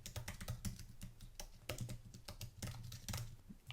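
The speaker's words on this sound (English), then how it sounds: "I'm going to type in the email address I want to use." Someone types an email address on a computer keyboard in quick bursts of soft key clicks, close and faint, with short pauses between the bursts.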